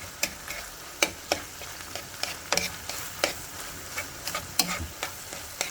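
Ground beef and pork sizzle in a pan while being chopped into small bits, the steady fry broken by sharp scraping and tapping from the utensil against the pan in an irregular rhythm; a voice talks briefly.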